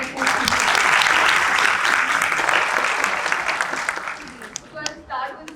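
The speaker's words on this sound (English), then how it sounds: "A big round of applause for Asad Meman" Loud, dense audience applause fills a live talk event on content creation, holding steady for several seconds before thinning into scattered claps at the end, with no speech over it.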